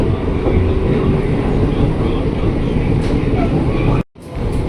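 A KRL commuter train pulling out of platform 2 at Juanda station, heard from inside the carriage as a loud, steady rumble with faint rail clatter and a brief dropout near the end.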